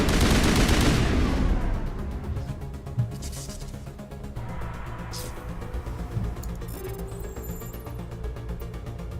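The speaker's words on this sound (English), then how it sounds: "You just kind of hear the assault rifle like blanking out every couple shots" Bursts of assault rifle fire from Mass Effect, heavy at first and then thinning into scattered shots with brief dropouts between them, loud over a busy game background.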